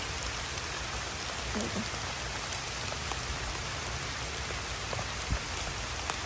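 Rain pouring onto surfaces in a palm plantation, a constant close wash of dense drops with a few louder individual spatters standing out.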